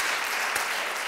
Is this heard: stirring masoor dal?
no